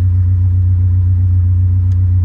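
A Nissan D21 Hardbody truck engine idles on a MegaSquirt standalone ECU, a steady, loud, low rumble that holds evenly throughout with no voices.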